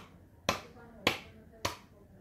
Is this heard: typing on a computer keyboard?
no